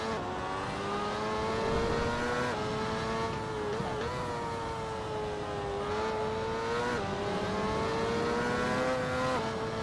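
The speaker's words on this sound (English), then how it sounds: "not controlling it well and shredding the tyres" A car holds a sustained high engine whine while spinning its wheels and shredding its tyres, with pitch wobbling up and down and a steady gritty roar underneath, loud and close with no talking.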